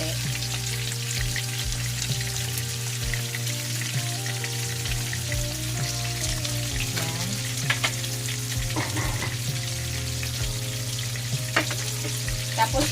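Onion frying in oil in a pan makes a constant, close crackling sizzle with occasional stirring scrapes, and no one speaks.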